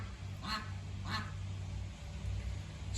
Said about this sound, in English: Ducks are going mental, quacking their heads off.